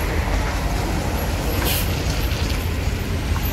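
A Mercedes-Benz 1626 Putra Remaja coach carrying passengers rumbles nearby with a broad, steady engine and road noise, holding an even loudness throughout with a brief hiss partway through.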